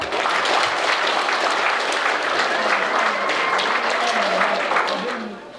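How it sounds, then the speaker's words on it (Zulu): Sustained applause from an audience at a Mondlo thanksgiving ceremony for young men, steady broadband clapping filling the whole clip and tapering slightly at the end, with voices mixed in. "thina sonke sibashayele ihlombe"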